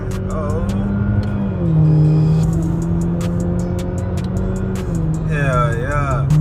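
From inside a 2020 Chevy Malibu RS, the engine drones and revs, and its pitch drops as it downshifts and climbs again. Excited voices talk over the steady road noise.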